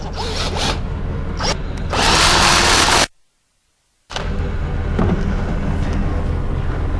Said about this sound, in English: I'm going to come down and drill the bottom side